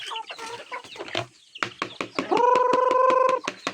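Native chickens cluck and squawk close by while being fed from a bucket, a busy run of short calls rising into one sustained, tonal squawk near the end.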